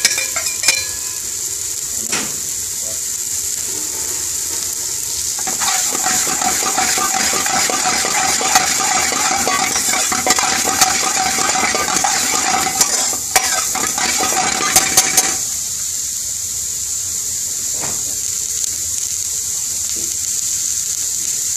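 Button mushrooms stir-frying in a pan for Indian restaurant-style mushroom fried rice, with a steady close sizzle and busy scraping and stirring in the middle stretch, then a quieter hiss toward the end; no talking.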